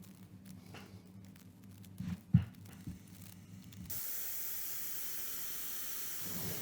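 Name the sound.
blowtorch heating big pieces of steel before welding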